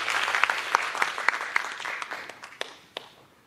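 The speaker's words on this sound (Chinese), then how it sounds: "好，那我们是不是先热烈掌声先欢迎王鼎杰博士来做论文发表" Seminar audience applauding to welcome a presenter: a dense, steady patter of many hands clapping, fairly close, tapering off toward the end with a few last claps, no speech over it.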